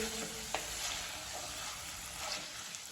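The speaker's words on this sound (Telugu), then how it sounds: "సన్నగా తరిగి పెట్టుకున్న టొమాటోస్ యాడ్ చేసుకొని కలుపుకుందాం" Finely chopped tomatoes go into sizzling, oil-rich frying masala for a restaurant-style dish and are stirred in. A steady close sizzle continues throughout, with a soft scrape or two from stirring and no voices.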